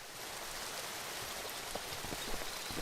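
Steady rain falls outdoors on the coast, a soft, even hiss with scattered close drops pattering on a surface, and no voices.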